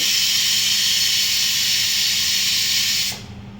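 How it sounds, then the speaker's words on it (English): A pressure cooker venting steam as it depressurizes while potatoes cook for aloo paratha, a loud, steady, close hiss that runs continuously and then cuts off abruptly near the end. "My cooker is done, but I have to wait for it to depressurize"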